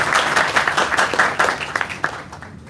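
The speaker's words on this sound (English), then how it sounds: "Let's give a round of applause for" Conference audience in Harlem breaks into applause, a dense burst of many hands clapping that fades out over a couple of seconds.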